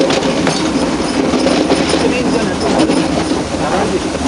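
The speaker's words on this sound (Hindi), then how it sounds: "पीछे से इंजन धक्का मार रहा है इस पूरी रेलगाड़ी को।" A train on the Nilgiri mountain rack railway, pushed from behind by a steam engine, rumbles along with a dense, continuous rolling clatter and faint wheel squeal, loud and close throughout.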